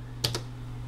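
Two quick computer keyboard keystrokes, close and crisp, a short tap followed by a second about a tenth of a second later, over a steady electrical hum.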